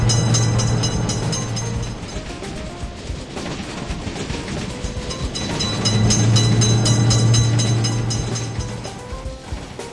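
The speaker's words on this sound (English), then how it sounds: "Train is coming." A loud train rolls past a road crossing in the game Railroute, its steady low drone rising and falling with rattling, clanking noise layered over it.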